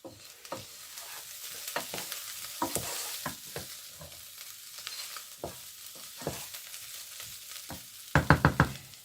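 Dried anchovies fry in a pan for an anchovy curry, with a soft continuous sizzle and repeated spoon or spatula scrapes, ending in a quick run of clattering stirs, with no speech.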